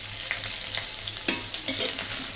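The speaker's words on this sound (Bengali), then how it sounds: "তেলটা ভালো মতন গরম হয়ে গেছে, এবার আমি দিয়েছি 1/2 চামচ পাঁচফোড়ন।" Half a spoon of five-spice seeds (panch phoron) frying in hot oil makes a close, steady sizzle with small crackling pops scattered through it.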